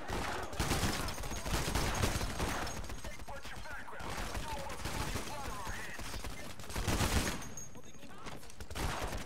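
Rapid gunfire in the heist shooter Payday: The Heist crackles in dense, continuous bursts with brief pauses, loud and close, with a player's voice faintly underneath.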